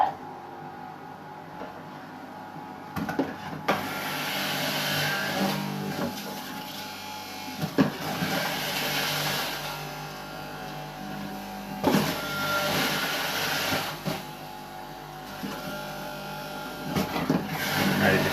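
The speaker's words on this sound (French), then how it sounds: "Je vais lancer la machine, je vais lancer la centrifugeuse, ça va faire un petit peu de bruit" A centrifugal juicer whirs steadily with a high motor buzz while apples, ginger and carrots are fed in, the grinding swelling in several louder surges over about eighteen seconds.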